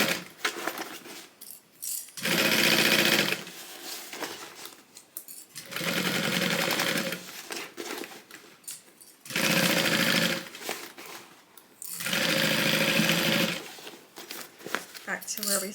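Close, loud bursts from a sewing machine stitching a tote bag, several runs of one to two seconds each separated by pauses where a person talks and fabric rustles.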